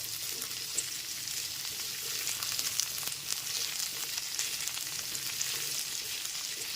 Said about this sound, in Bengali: মিডিয়াম টু হাই ফ্লেমে সবজিগুলোকে একটু ভেজে নেবে